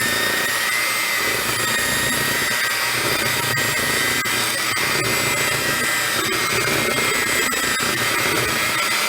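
A kitchen blender purees strawberries and bananas with a loud, steady whirring roar that stays continuous and close throughout.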